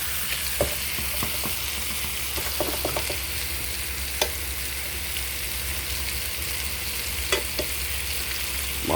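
Beef neck bones sear in a hot pot with a steady, loud sizzle and crackle, with occasional sharper pops and stirring clinks over the constant frying hiss.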